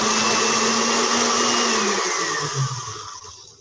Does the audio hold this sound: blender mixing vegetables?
yes